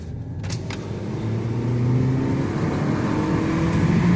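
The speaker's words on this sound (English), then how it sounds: "Let's go over this gravel." A Toyota Corolla FX rolling over gravel, heard from inside the car as a steady low engine drone and crunchy road rumble that swells after the first second, with a brief clatter near the start.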